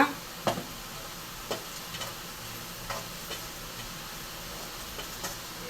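Chopped onions with chili powder stir-frying in a pan, a steady low sizzle broken by several sharp scraping stirs at intervals, close and alone without talk.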